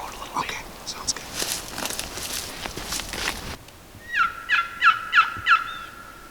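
Five wild turkey gobblers in big woods gobble in a rapid series of five loud calls, following several seconds of rustling and footsteps, with quiet voices nearby.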